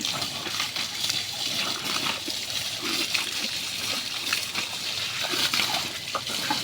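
Water splashes and sloshes continuously as it is poured over someone cooling off in 43-degree heat, irregular wet spatters close up with a person's voice cutting in now and then.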